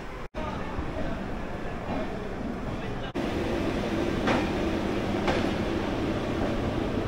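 The 13149 Kanchankanya Express pulls out of Kolkata with a steady rumble of rail and carriage noise. The sound comes from inside the coach, and a couple of brief clicks and knocks cut through it.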